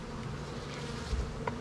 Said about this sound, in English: So we have a lot of bees on the ground out here